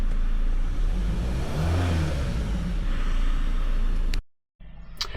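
A car engine runs steadily after a fuel pressure repair, a close, loud, continuous idle with slight revving that cuts out briefly near the end before resuming.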